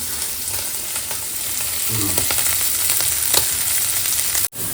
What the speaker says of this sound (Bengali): ফার্স্টে এখানে আলুগুলো ভেজে নেওয়া হচ্ছে